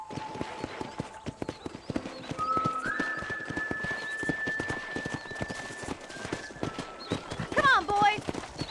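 Horse hooves clip-clop in a steady walking rhythm at a ranch corral in Red Dead Redemption, moderately close and under game dialogue, with a brief whinny near the end.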